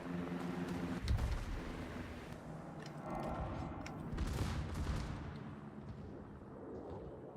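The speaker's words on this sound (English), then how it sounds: "That's what's good about secondaries, is they fire and they let you know when something's sneaking up on you that you're not looking at" Secondary guns aboard warships in World of Warships fire in a few scattered, thudding bursts over a continuous low rumble of battle, with one heavier salvo near the start and another around the middle.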